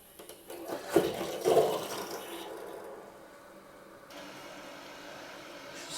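Water rushes into a Saniflo upflush toilet being installed in a basement bathroom, a burst of surging flow with clunks early on, then settling into a steady, quieter hiss of filling.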